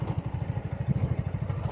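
A motorcycle engine-brakes downhill on a dirt hill track, a close, low, rapidly pulsing engine thrum.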